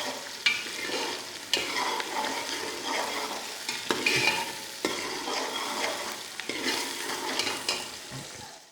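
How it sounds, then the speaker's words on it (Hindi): Chopped onions frying and being stirred in a pan for aloo keema, a steady close sizzle broken by regular scraping stirs of the spoon, with no talking. "प्याज इसमें शामिल कर दिया है हमने। अब इसको लाइट गोल्डन होने तक पकाना है।"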